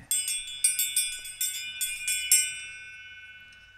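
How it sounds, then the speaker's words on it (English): A small bell rings in a quick series of about eight bright, evenly spaced strikes, then its tone lingers and fades slowly, clear and alone against near silence in a calm hypnosis meditation setting. "As you hear my bell ring, you can let yourself rise up high."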